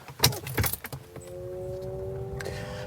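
Key jangling and a brief click as the key turns in a Maxus T90EV 2023 electric pickup, a few sharp rattles early on, then a steady low hum and faint tone settle in as the cab goes quiet.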